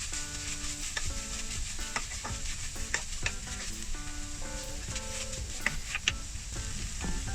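Fish cutlet mixture being stirred and mixed in a bowl, a continuous scraping, churning texture with soft irregular knocks throughout and no voices.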